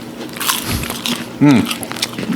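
Puffy crunchy snacks are bitten and chewed close to the mic, giving a short burst of crisp crunching among mouth noises and faint background voices.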